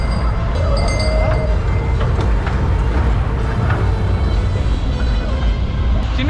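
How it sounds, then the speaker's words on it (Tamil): Steady rumbling of a children's mini express train ride at the Wonderla theme park rolling along its track, loud and continuous, with squeaks and clatter and people talking faintly in the background. "குழந்தைங்க விளையாடுறதுக்கு மினி எக்ஸ்பிரஸ் ட்ரெயின் இருக்குது"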